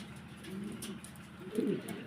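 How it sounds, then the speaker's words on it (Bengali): Pigeons coo softly at close range, a couple of low, throaty, rolling calls over a quiet background. "দেখেন কবুতর কাকে বলে"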